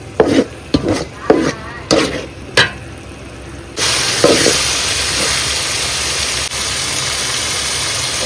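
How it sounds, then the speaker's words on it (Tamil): Onions are stirred with ginger garlic paste in a pan for a Madurai wedding-style pepper chicken, with several scraping strokes, then a loud steady sizzle of frying that carries on to the end. "அடுத்து வெங்காயம் வதங்கும் போதே இஞ்சி பூண்டு பேஸ்ட் ஆட் பண்ணிக்கலாம்."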